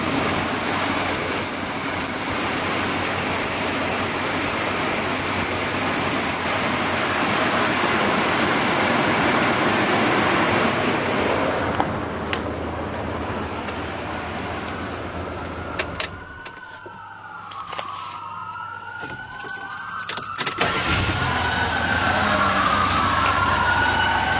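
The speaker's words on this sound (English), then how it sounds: "this is the engine running. It's running for a few minutes." A 1974 Dodge engine drones steadily nearby with a broad, rushing noise, joined near the end by a whirring whine that rises and falls a couple of times.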